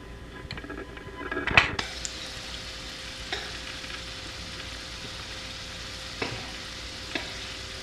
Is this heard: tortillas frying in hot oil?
yes